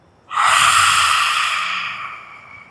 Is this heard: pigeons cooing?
no